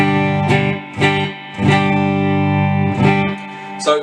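Jet JS-400 HSS electric guitar plays through a Fender Hot Rod Deluxe amp on the clean channel with a touch of reverb, giving loud sustained chords with several sharp strums in an uneven rhythm, without speech.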